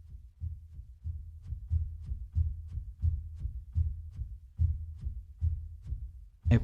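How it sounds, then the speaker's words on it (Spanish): Damper pedal noise from a sampled piano in a Kontakt library: a regular series of soft, low, muffled thumps, about two per second, evenly paced like a slow pulse, ending with a slightly sharper knock. "ruido de pedal normal"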